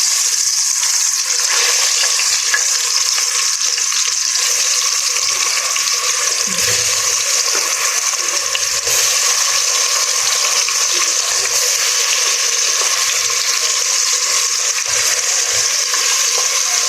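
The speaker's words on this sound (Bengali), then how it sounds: "মাছগুলো ভাজা হতে থাক" Pangasius fish pieces fry in hot oil, a loud, continuous sizzling hiss that stays steady and close for the whole stretch, with no speech.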